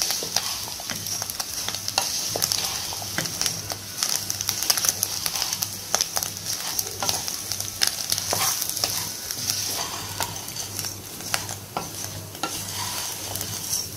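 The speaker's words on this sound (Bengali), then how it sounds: "এখন আমি এটাকে হালকা হিটে 2-3 মিনিট ভালোভাবে নেড়ে নেব।" Puffed rice with egg is stirred in a frying pan over low heat: a steady quiet sizzle runs under frequent dry scraping and clicking strokes that continue throughout.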